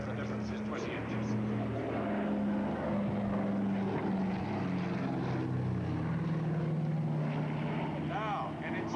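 A Catalina flying boat drones past at an air show, its propeller engines making a steady, loud hum with shifting pitch while a commentator talks over it.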